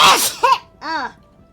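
A single sharp sneeze burst up close, followed by a brief voiced gasp-like sound and a short breathy exhale.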